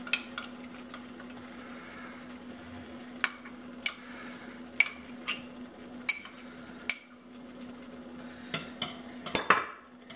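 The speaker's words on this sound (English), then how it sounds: "We're going to stir this in until it gets smooth." A spoon stirs banana, honey and vanilla into a melted granola mixture in a pot, producing soft scraping with sharp metallic clinks at irregular intervals over a low steady hum.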